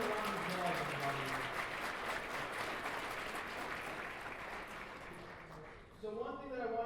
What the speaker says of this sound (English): them a round of applause, everybody